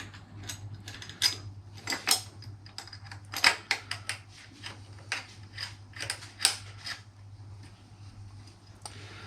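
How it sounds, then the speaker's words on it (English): Screws being fitted to a side stand foot plate on a 2023 Honda CB500X give off sparse, close metallic clicks and ratcheting ticks at an irregular rhythm over a low steady hum, with no talking. "So I put them all in loosely all the way around."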